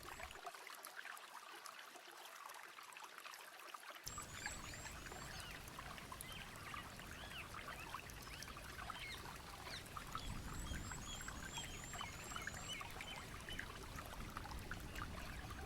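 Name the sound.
rainforest water flowing and pouring in Amazon streams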